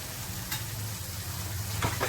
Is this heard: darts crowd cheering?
no